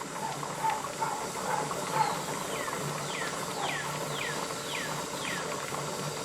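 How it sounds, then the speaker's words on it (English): Water boiling in a tomato canner in a home kitchen, a steady hissing, rolling bubble with a repeated faint chirping rattle on top, moderately quiet and close, with no talk over it. "you can hear the boiling in the canner"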